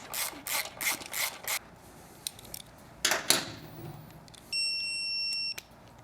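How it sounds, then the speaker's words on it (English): Ratcheting clicks from a 12mm wrench held against a 5mm hex while tightening a nut on a passenger peg block-off for a 2016-on liquid-cooled Triumph motorcycle, in short bursts, followed by a steady electronic beep. "put it on the back of the screw with your 5mm hex and 12mm wrench."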